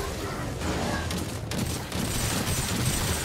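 Shotgun blasts and weapon fire in a first-person PvE shooter, dense overlapping booms and crackle for about three seconds with little pause.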